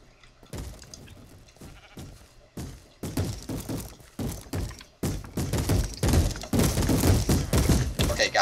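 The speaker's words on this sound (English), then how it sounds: "It's really irritating because they bang on the doors." Minecraft zombies bang on wooden doors at night: repeated heavy thuds and knocks that start sparse, then grow louder and more frequent, piling into a rapid, relentless pounding with moaning mixed in.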